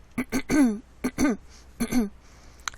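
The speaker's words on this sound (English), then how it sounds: "I apologize for clearing my throat." Someone clears their throat repeatedly, three rough voiced bursts in quick succession, close and fairly loud.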